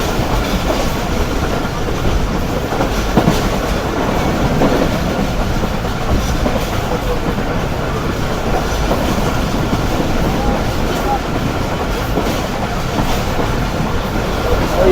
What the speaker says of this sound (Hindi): काफ़ी अच्छी स्पीड में ट्रेन हमारी आगे बढ़ रही है इस वक्त